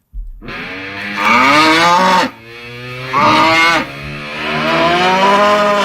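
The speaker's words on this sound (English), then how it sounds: "if you were to give a cow a voice box, this is what it would sound like" A cow gives long, loud, close moos with a strangely voice-like, throaty tone, two drawn-out calls followed by a third rising one, with no talking.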